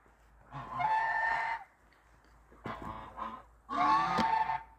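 Farmyard fowl call out in three separate harsh, honking bursts, each lasting about a second, with short quiet gaps between them. The calls are fairly close and carry over a faint low background.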